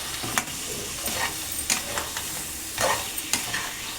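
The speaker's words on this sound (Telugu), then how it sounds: "చూడండి, చక్కగా కలిపేసుకోవాలి, అంతా పట్టేలాగా కలిపేసుకొని" Crab pieces are stirred through masala in a pan, a close steady sizzle broken by repeated scraping strokes of the spoon at an uneven rhythm, with no talk.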